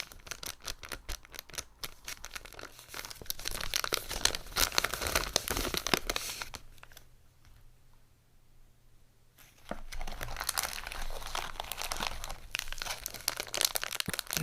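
Plastic MRE ration packaging crinkles and tears up close in dense, crackling bursts, pausing in near silence midway before resuming just as busy.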